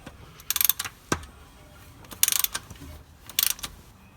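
Short bursts of ratchet clicking come from a wrench turning a Mazda MX5 engine's crankshaft during a timing belt job, three close clusters with a single sharp knock between them.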